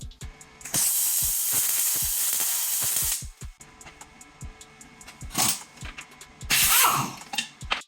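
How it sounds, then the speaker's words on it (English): A welder at work on a sheared bolt of a Tesla-powered 1989 Porsche: a loud steady hiss and crackle for about two seconds, then shorter bursts among clicks and clanks of the tools. "All right, ready to weld."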